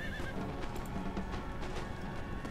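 Horses neigh and whinny in the Napoleon Total War battle game, with faint clip-clopping hooves beneath a steady wash of battlefield noise, all fairly quiet and distant.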